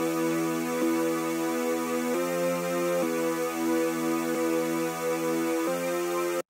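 Reworked main synth parts in an FL Studio trap beat, sustained layered chords changing every second or so, steady and loud, played alone with no talking.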